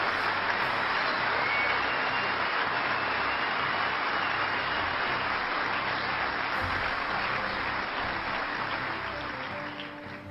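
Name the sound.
audience applause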